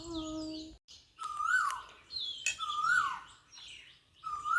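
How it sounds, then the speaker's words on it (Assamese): An Asian koel calls repeatedly nearby, rising whistled notes recurring every second or so, with other bird chirps mixed in. "কুলি একদম মাতি আছে আমাৰ পিছফালে"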